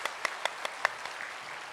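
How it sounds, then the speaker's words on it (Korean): A church congregation claps during a Sunday service to welcome a new family. A few distinct claps land at a steady beat before the sound thins into lighter, scattered applause that fades. "환영의 박수로"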